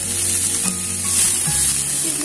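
Mixed vegetables stir-frying in a pan, a dense steady sizzle with occasional light spatula scrapes, close and constant, no talking.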